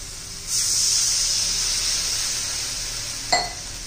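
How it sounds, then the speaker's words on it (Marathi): A sharp sizzling hiss bursts out as water hits a hot pan for Maggi masala noodles, settling into a steady sizzle, with a brief clink near the end. "त्यात आता पाणी घालून घेऊया आपण"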